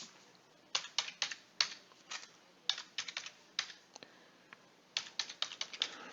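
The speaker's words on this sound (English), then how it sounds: "I have to open a web browser and type in the IP address of the GPS" Someone types an IP address into a web browser on a computer keyboard: close, crisp key clicks in quick bursts with short pauses between groups, no talking.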